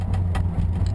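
A pickup truck fitted with straight-through MagnaFlow mufflers idles with a deep, steady exhaust rumble, close and continuous with slight pulsing.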